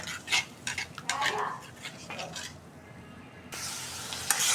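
Spice paste for a beef roast fries in a pan and is stirred, with a utensil scraping and clinking against the metal over a soft sizzle, followed by a steadier hiss.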